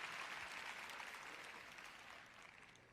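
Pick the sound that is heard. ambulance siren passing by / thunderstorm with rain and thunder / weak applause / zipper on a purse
weak applause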